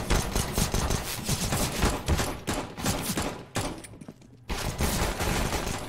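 Rapid automatic gunfire from the Counter-Strike: Global Offensive video game, near and loud, in dense bursts that pause briefly before resuming.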